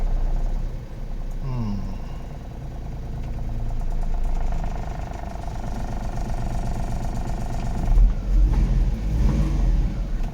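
Mazda Family car engine started and running, a steady mid-pitched hum that builds and roughens into louder revving near the end, with no talk over it.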